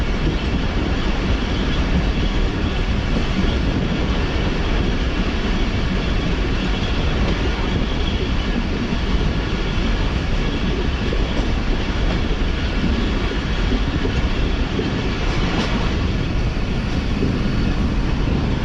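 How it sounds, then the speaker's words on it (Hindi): The Subak Raftar railcar runs along the rails toward Lahore, its loud unbroken rumble and rattle of wheels and coaches filling the whole stretch from inside the train. "और फिर PLC लेने के बाद अब ट्रेन मज़ीद आगे बढ़ रही है अपने नेक्स्ट स्टेशन की तरफ।"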